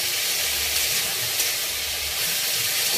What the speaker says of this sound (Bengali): কড়াইতে নাড়তে থাকবো, পুরো ভাজা ভাজা হয়ে যাবে